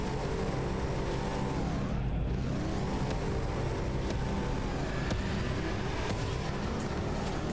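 Racing cars in the combat racing game GRIP: Combat Racing drone and whine continuously, with an engine pitch that sweeps down and back up once, all at a steady level and no talk.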